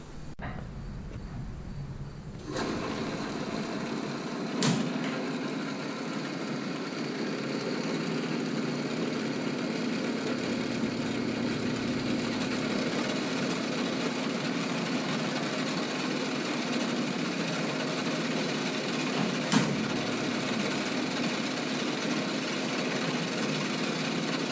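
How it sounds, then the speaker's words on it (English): A metal-cutting bandsaw slices an angled cut through a 4x4 steel main tube: a steady, moderately loud mechanical hum that runs unbroken for about twenty seconds, with a couple of brief clicks. "I'm going to try cutting it with the bandsaw."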